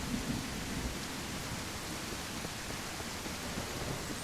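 Heavy rain pours steadily in the survival video game Mist Survival, a dense, loud wash of noise with low thunder rumbling underneath throughout, and no talk.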